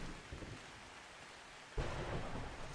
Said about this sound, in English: Very stormy today.